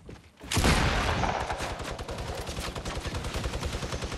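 A minigun fires a long continuous burst in the Fortnite battle royale game, a dense rapid rattle that starts abruptly and stays loud throughout.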